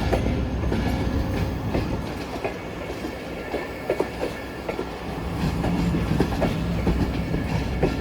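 Millat Express passenger train with refurbished coaches rolling along the rails, a steady rumble with repeated wheel clicks and clacks running throughout, fairly close and continuous with no talk.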